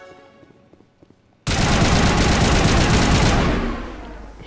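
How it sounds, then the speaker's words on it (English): A sustained burst of automatic gunfire in Mass Effect Legendary Edition erupts abruptly after a quiet stretch, loud and dense for about two seconds before trailing off. "A few more bullets just for good luck."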